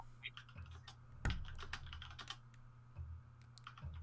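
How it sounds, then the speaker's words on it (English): Typing on a computer keyboard during a livestream, a run of quick, fairly faint key clicks with a few louder strokes, heard alone without speech. "I hear you typing."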